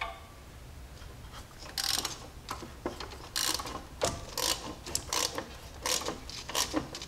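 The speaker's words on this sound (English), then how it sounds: "then I'll attach my ratchet and then take it off" Ratchet and socket on an extension loosen an exhaust manifold bolt on a Jeep 4.0L engine, giving quiet, close, irregular bursts of clicking pawl strokes with short pauses between them.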